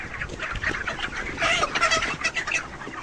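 Chickens on a poultry farm clucking and murmuring in a dense chorus, with overlapping calls swelling midway and no talk over them.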